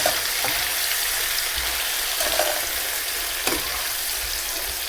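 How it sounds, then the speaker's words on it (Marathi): Bitter gourd curry sautéed in a pan, a steady loud sizzle like rain on a surface with occasional scraping stirs and soft knocks of a spatula, nearby and unbroken, no one talking. "असं परतून घ्यायचं आहे ह्याला"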